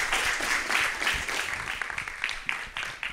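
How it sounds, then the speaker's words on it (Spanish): Applause fills a hall at an awards session for a water-week event, a steady crowd clapping with some individual claps standing out, gradually thinning toward the end. "Yo creo que le podemos dar de nuevo un fuerte aplauso."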